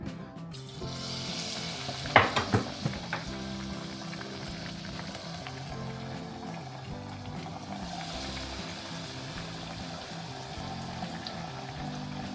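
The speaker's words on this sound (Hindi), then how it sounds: "इसमें हम ये डाल के फ्राई कर लेते हैं।" Dredged fish for British-style fish and chips deep-frying in hot oil, a steady close sizzle with a burst of louder crackles and spatters early on, then an even bubbling hiss throughout.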